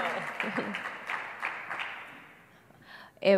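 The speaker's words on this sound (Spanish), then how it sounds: "Un aplauso, por favor, para Kelly." An audience at the SLANH 2025 nephrology conference claps for a speaker, a moderate burst of applause that thins and fades over a couple of seconds before a voice briefly speaks near the end.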